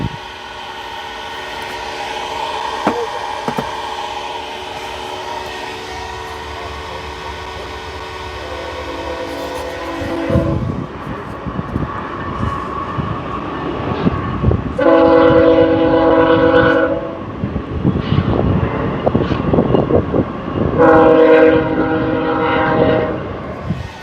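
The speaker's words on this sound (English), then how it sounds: "Three BNSFs and a Norfolk Southern." A BNSF freight train with a four-engine lash-up of three BNSF locomotives and a Norfolk Southern unit rumbles past at Clovis, New Mexico, with a steady roar and several loud, repeated horn blasts.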